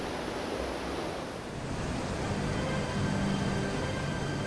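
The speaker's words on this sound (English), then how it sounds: "water from the head race flows into a wheelhouse where it steadily turns the big water wheel." Water from a mill head race rushes into the wheelhouse and steadily turns a large restored water wheel at Wilkinson Mill, a continuous broadband wash with no voices.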